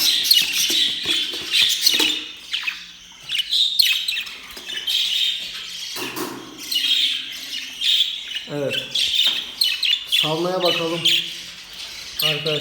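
Budgerigar chicks chirp and squawk close by in a busy, overlapping chorus of shrill calls that carries on throughout, with no speech.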